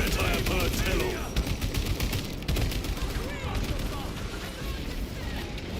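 Heavy bolter gunfire in a Warhammer 40,000 video game rattles in dense, continuous bursts, loud and chaotic, with battle noise layered throughout.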